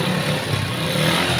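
Motorcycle engine running steadily and loudly right after its loose exhaust was tightened, a dense continuous mechanical drone with a slightly rough, sputtering edge, heard close by; the bike had been backfiring and only ran on choke.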